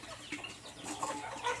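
Backyard hens give faint, brief clucks at a moderate distance amid quiet outdoor background noise.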